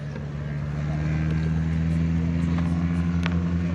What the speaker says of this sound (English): Hearing those engines rev up